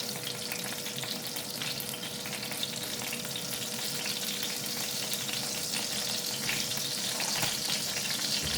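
Pork belly adobo sizzling and frying in an electric skillet, a constant close crackle of hot oil with small spatters, steady throughout and without voices.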